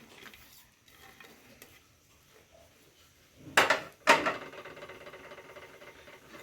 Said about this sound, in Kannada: ಅದನ್ನು ಹಾಕ್ಕೊಂಡು ಸ್ವಲ್ಪ ಹೊತ್ತು ಬಿಸಿ ಮಾಡ್ಕೊಬೇಕಾಗತ್ತೆ.